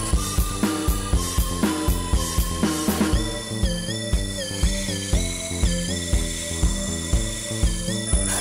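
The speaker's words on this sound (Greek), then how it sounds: "Με ένα γυαλόχαρτο προσπαθούμε να γυαλίσουμε λίγο, έστω ελάχιστα," Sandpaper rubs the inside of a tiny wooden hollow form spinning on a woodturning lathe, giving a gritty scraping under the lathe's steady motor whine, with rhythmic pulses and shifting tones as the speed changes.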